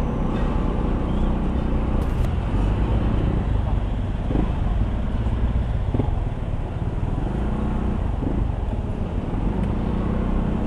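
Rain-soaked traffic rumbles along a flooded road in Laguna, a constant low engine and road wash with passing vehicles, while people talk over it.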